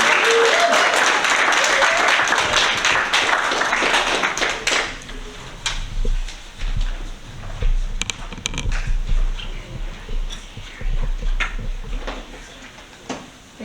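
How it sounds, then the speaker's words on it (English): A room of attendees at a Sitka school board meeting gives a loud round of applause that fades after about five seconds, followed by scattered taps, shuffling and low talk. "How about one more round of applause for everyone?"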